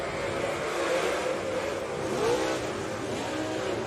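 Dirt track race cars at a Belleville Dirt Nationals qualifying heat roar off the green flag start together, a dense, continuous engine drone with rising revs and pitch sweeps, steady and loud across the whole moment.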